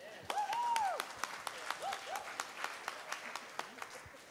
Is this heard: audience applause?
yes